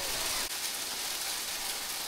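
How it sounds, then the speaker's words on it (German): Hail comes down during a bikepacking ride on the Trans Bayerwald route, a dense, steady crackling patter on the surroundings that stays constant and close throughout. "regnen wäre viel zu wenig. Es hagelt."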